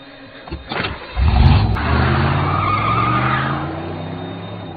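A stolen car skids hard during a getaway, its tires squealing over a loud, rising engine roar that builds after a brief start and then holds steady and close.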